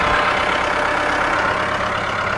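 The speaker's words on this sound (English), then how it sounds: "This tractor's a little big for this wet yard up here." A big tractor engine runs steadily in a wet front yard, a loud, close, continuous rumble with an even mid-range drone and no breaks or talk.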